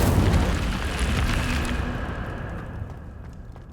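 An Incendio fire spell is cast in Hogwarts Legacy, giving a loud whooshing burst of flame with a deep low rumble that gradually dies away over a few seconds.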